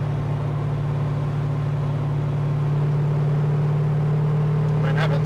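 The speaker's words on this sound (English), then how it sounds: "having 640 odd horsepower and it just cruises along like this" A 640-horsepower street car cruises along the road, its engine holding a steady low hum and drone up close, with someone talking over it.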